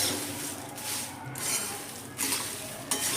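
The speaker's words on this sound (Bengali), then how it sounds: "মুড়িটাকে আমি কিছু সমানে নেড়ে যাচ্ছি গরম কড়ায়" Puffed rice stirred continuously in a hot kadai makes a dry, rustling scrape with rhythmic swishes, close and steady throughout.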